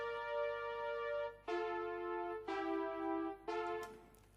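A synthesizer plays sustained, smooth tones, stepping to a new pitch about once a second in a slow, even sequence.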